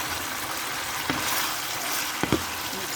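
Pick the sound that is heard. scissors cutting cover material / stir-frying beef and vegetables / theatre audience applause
stir-frying beef and vegetables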